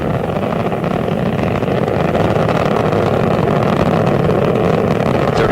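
Space Shuttle Atlantis's three liquid-fuel main engines roar during launch, a loud, dense, continuous rumble that holds steady throughout, with no voices.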